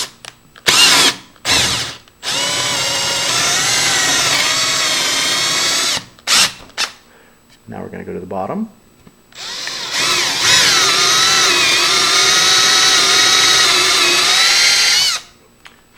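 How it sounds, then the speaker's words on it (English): A power drill bores a hole halfway through a door while a Grade 2 Marks passage lever handle is being fitted. Short bursts are followed by long, loud, steady runs of whining drilling, with a brief spoken remark between them. "that's just drilling the hole halfway through the door"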